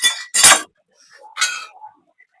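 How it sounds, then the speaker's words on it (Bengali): Cashew nuts being lightly roasted in a pan for mango firni, with two short bursts of metallic clinking and scraping as a utensil works the pan, then a quieter stretch. "কাজু বাদামটাকে দিয়ে নেবে হালকা একটু বাজিয়ে নেবো"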